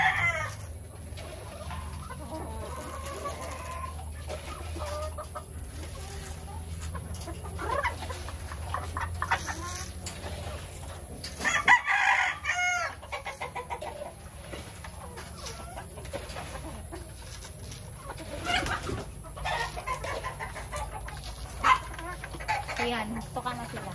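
Caged breeder chickens in a battery-type breeding cage cluck and call continuously while eating breeder pellets, with occasional louder squawks over a steady farm background.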